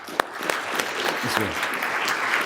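Audience applause for Rev. Kelly Billings at a talk on identity and divine nature, a close, steady patter of many hands with a few sharper individual claps standing out, while voices murmur faintly underneath.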